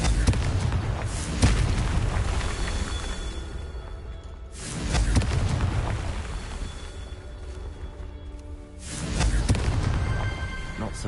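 Spell explosions from Hogwarts Legacy on PS5, a series of loud booming blasts with whooshing tails, each swelling and fading over several seconds amid continuous game-world rumble.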